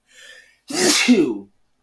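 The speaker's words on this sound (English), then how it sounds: "Excuse me, I'm about to sneeze." One sharp human sneeze, close and loud, preceded by a quick breathy intake.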